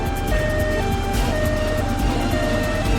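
An ambulance siren on a road in a Tamil TV drama scene wails in a repeating two-tone pattern over steady traffic and engine noise.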